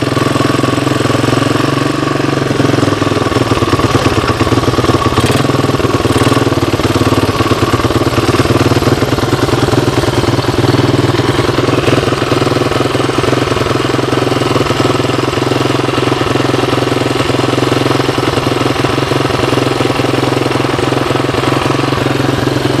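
A 1985 Honda 250ES, running on a portable CDI box after years of sitting, keeps up a loud, steady, close engine drone with a rough, chattering pulse throughout.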